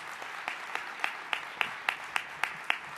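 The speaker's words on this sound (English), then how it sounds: "Let's have a round of applause for everybody." Sparse, fairly faint clapping at an awards celebration honouring the crew, a few hands striking in a steady rhythm of distinct, evenly spaced claps over a quiet room.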